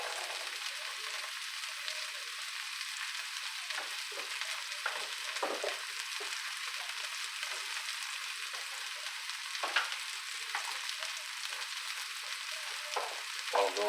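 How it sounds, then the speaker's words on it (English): Mushrooms browning in a hot pan and stirred with a wooden spoon, a steady close sizzle with soft scraping strokes scattered through it. "I'm going to go ahead and just use my wooden spoon today. So all I'm going to do with this is just kind of get a little color on these mushrooms"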